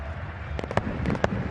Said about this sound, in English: Fireworks are back in,